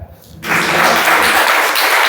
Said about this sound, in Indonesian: Ya, betul sekali, tepuk tangan.